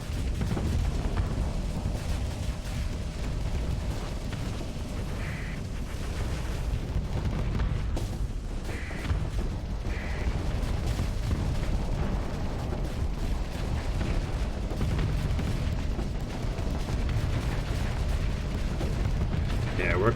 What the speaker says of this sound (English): Oh, he has plasma cannons.